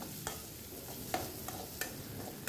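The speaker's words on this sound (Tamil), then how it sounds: "வெங்காயம் நல்லா வதங்கி ப்ரௌன் ஆகணும்." Onions sautéing until brown in a pan, a low steady sizzle with a few distinct spoon strokes scraping at intervals, fairly quiet.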